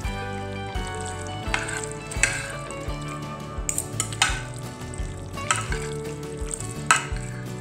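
Pasta with cherry tomatoes and feta is stirred in a pan, a soft sizzle running under repeated scraping and clinking of the utensil against the pan in an irregular rhythm.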